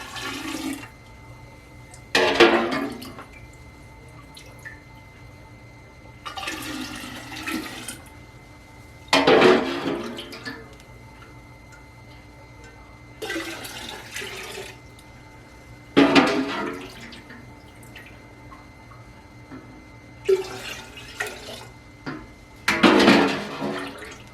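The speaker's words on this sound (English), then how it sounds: "As I pour it in, it's going to fizz, because that's part of the fermentation process." Fermenting homemade apple cider vinegar poured into a container in a series of about five separate splashing, rushing pours with quiet pauses between them.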